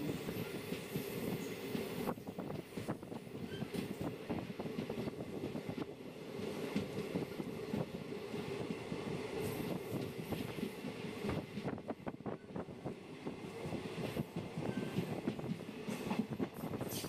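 A Tuticorin–Mettupalayam passenger train runs steadily on rails, a continuous close rumble with rhythmic clatter of wheels over joints and occasional squeals throughout, with no talking.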